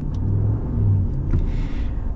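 Hemi V8 of a 2024 Ram 1500 Limited pickup rumbling with a steady, loud low-pitched drone and a slight swell in revs, heard alone without talk.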